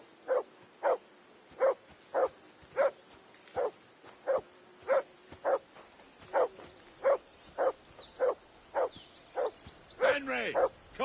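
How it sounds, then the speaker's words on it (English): Dog barking in Kingdom Come: Deliverance 2, a steady run of about twenty sharp, evenly spaced barks, fairly close and loud, with game ambience underneath and a busier stretch near the end. "call that dog to heel"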